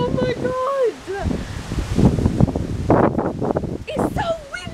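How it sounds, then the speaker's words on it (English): Strong gusting wind buffets the microphone in loud, uneven rushes, with a person talking over it in the stretches between gusts. "It's so windy."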